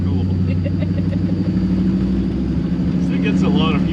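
Studded tires growl steadily beneath a 1957 Chevy rolling down a winter road, a continuous low drone with engine rumble mixed in, close and fairly loud throughout.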